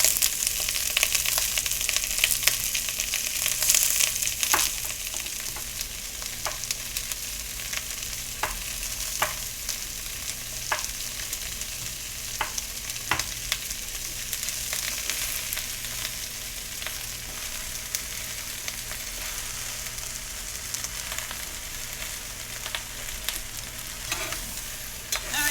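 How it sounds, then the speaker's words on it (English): Vegetables sizzle steadily in a pan for braising in red wine sauce, a close, continuous fry with repeated scraping stirs and clicks, no talking. "We're just going to let that cook for about 5 minutes until everything starts getting some color on it."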